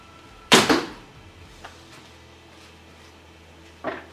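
Border Archery Covert Hunter bow with Hex 7.5 limbs and Hyperflex core shooting an arrow: one sharp release thump, quiet between, then a softer knock a few seconds later, close and unaccompanied.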